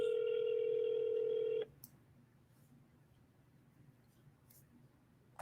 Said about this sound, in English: let's see if this person picks up the phone.